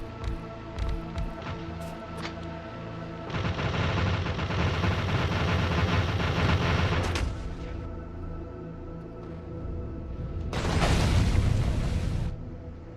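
Artillery in Factorio Space Age fires and explodes, with a few sharp shots followed by long rumbling barrages of booms that swell, fade, then surge again, loud and close, with no talking.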